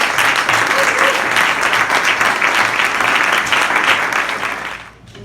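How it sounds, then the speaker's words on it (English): An audience at an evening Italian startup pitch event in New York applauds steadily for several seconds, a dense, loud wash of clapping that fades out near the end. "So I want to have a round of applause before they pitch for that."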